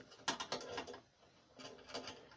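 A wrench tightens engine mount bolts on an 80cc/66cc motorized bicycle, making two short bursts of quiet, rapid ratcheting clicks with a brief pause between them.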